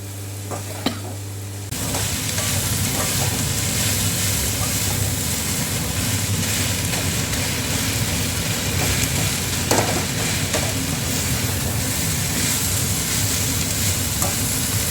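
Spring onion stalks stirred in a frying pan over a gas flame, a loud continuous sizzle with scraping and stirring strokes after a quieter start.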